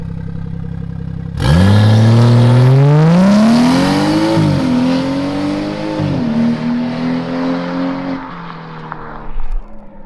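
A car launches hard from a standstill, its engine note climbing steeply through the gears with a couple of brief dips at the shifts. The sound is loud and close and fills nearly the whole stretch, then fades toward the end.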